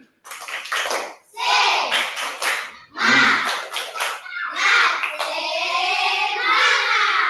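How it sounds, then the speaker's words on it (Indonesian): Schoolchildren in a classroom perform a patterned spirit clap, bursts of hand claps separated by short pauses, with children's voices chanting along in rhythm between and over the claps. "Oke, tepuk semangat."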